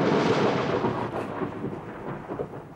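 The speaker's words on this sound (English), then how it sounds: "11 o'clock and there's a storm brewing." Thunder from a brewing storm rolls as one loud, continuous rumble for about three seconds, with no voices over it.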